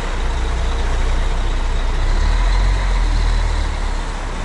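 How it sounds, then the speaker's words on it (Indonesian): A tour bus engine idles nearby with a loud, steady low rumble that holds for several seconds with no voices over it. "Ini bus kita."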